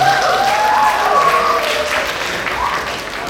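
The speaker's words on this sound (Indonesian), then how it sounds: "Kasih tepuk tangan buat Yumi." Seminar audience at a Batam event applauding a participant, a broad steady wash of clapping with crowd noise and a faint voice mixed in.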